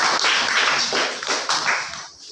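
Classroom applause after a ninth-grade class recites a Hindi poem, a short burst of clapping by a small group, close and fairly loud, fading out at the end.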